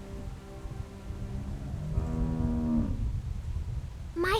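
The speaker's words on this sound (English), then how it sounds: "How do you like that cow, Clem?" A cow in The Walking Dead Telltale video game lets out one long, low moo in the middle of quiet ambient game audio, followed by a brief higher sound at the end.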